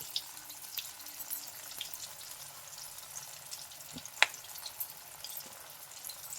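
Pieces frying in a pan for Telangana patala kura, a soft steady sizzle and crackle with scattered pops and one sharper clink, continuous and fairly quiet throughout.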